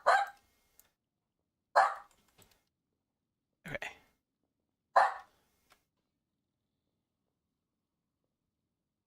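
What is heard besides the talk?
dog barking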